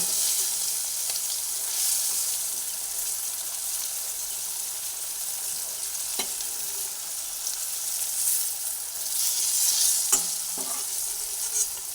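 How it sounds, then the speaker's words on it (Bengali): Spiny gourd pieces deep-frying in hot oil, a continuous bright bubbling sizzle throughout, with a couple of soft clinks as pieces are lifted out of the pan. "এই কাঁকড়গুলোকেও একইভাবে ভেজে তেলের থেকে তুলে নিচ্ছি"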